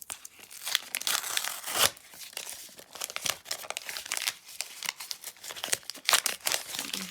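A paper packet tears and crinkles in quick, uneven bursts, close up and fairly quiet, with sharp ripping moments throughout.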